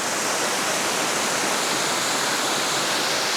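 Steady broadband roar of a waterfall beside a swing bridge on a tramping track in Kahurangi National Park, constant and fairly close, with no voices.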